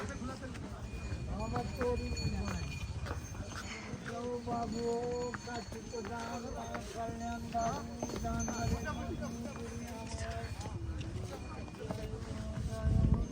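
Horses clip-clop along a mountain path on the way to Muktinath in Mustang, Nepal, their hooves beating in a steady, close rhythm among a crowd, with people talking throughout.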